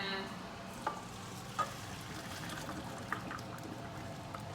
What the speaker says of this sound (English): the pasta in and strain it